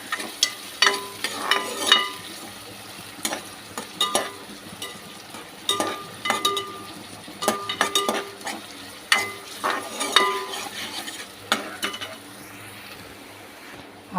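Onions and green chillies fry in a pan for an Andhra-style okra tomato curry, a steady sizzle broken by repeated sharp scrapes and clinks of a spoon stirring against the pan, close and fairly quiet, with no talking.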